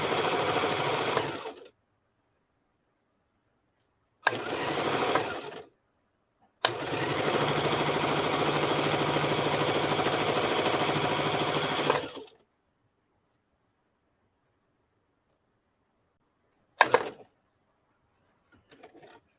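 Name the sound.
sewing machine stitching fabric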